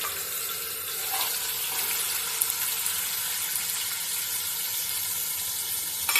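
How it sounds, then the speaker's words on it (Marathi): Potato pieces fry in hot oil in a pan, giving a steady, bright hissing sizzle that stays even and continuous throughout, with no talking. "बटाटा जो आपण घेतला आहे तो पहिला त्याच्यात फ्राय करून घेणार आहे"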